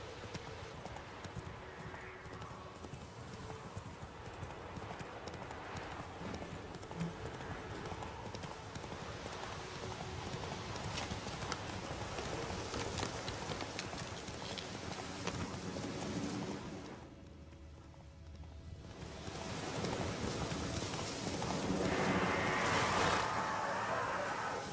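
In The Witcher 3, the horse Roach gallops with a fast, steady clip-clop of hooves over a wash of ambient game sound, fading briefly before rising again near the end.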